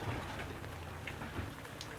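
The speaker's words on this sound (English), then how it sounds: "The heavens have opened, heavy rains everywhere." Heavy rain pours down on a farm in a dense, steady hiss of drops hitting surfaces, continuous and enveloping with no voices.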